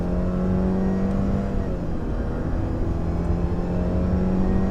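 Steady engine drone and road noise inside a 2018 Subaru Crosstrek 2.0i Premium with a CVT and direct-injection boxer engine, cruising smoothly at an even pitch with no talking.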